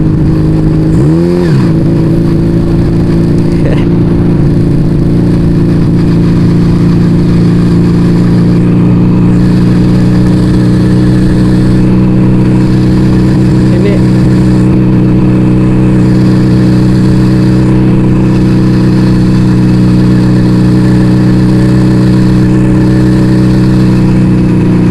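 Yamaha Vega ZR two-stroke motorcycle idles loudly and steadily up close, with one quick blip of the throttle near the start and a constant buzzing drone throughout.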